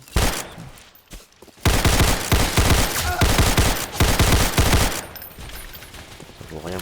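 Automatic gunfire in a Roblox game, rapid bursts of loud repeated shots in two main volleys, dense and close, with quieter gaps and softer firing near the end.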